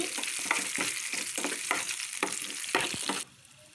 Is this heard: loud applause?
no